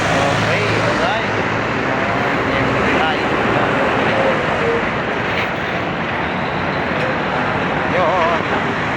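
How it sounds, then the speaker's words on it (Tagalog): Heavy road traffic in Valenzuela under an overcast sky, a loud, steady roar of passing engines and road noise with a few faint horn-like tones, continuous throughout. "grabe, sobrang traffic"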